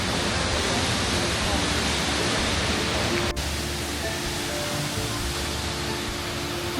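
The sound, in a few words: waterfall at Silver Falls State Park, Oregon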